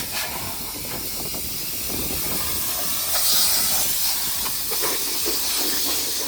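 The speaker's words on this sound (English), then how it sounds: "blowing it all out right now, getting all the dust out of it, out from in it, under it, blowing all the nooks and crannies out" Compressed air blowing dust out of a car body inside a paint booth, a steady loud hiss that swells and sputters in bursts across the whole stretch, with no talking.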